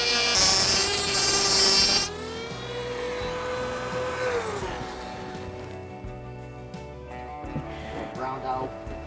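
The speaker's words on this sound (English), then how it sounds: "I'm just going to take my moto tool here, my Dremel, and just take a little bit off of here" A Dremel rotary tool grinds a small amount of metal off a lock part. A sharp, high whine sounds for about two seconds, then eases into a lower, fading hum with rasping contact, with a voice talking over it.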